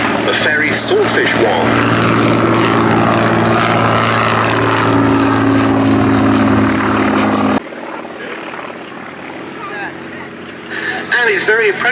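Loud propeller engine drone of a Fairey Swordfish biplane passing overhead at the 2024 Duxford Battle of Britain Airshow, steady and strong before dropping off abruptly, with a crowd and announcer chatter faintly around it.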